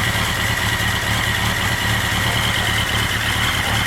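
A 1983 Honda Night Hawk 650cc motorcycle idling, a loud, steady, close engine rumble with an even low pulsing throb.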